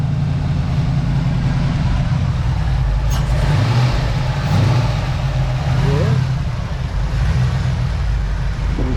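A Ford Crown Victoria's engine rumbles steadily at idle nearby after sitting unused for a while, a low continuous hum with slight rises in revs.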